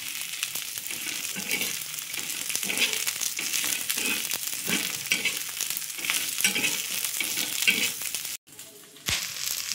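An egg dish is stir-fried in a pan over a raised flame, with steady rhythmic scraping and tossing against a constant sizzle that pauses briefly near the end.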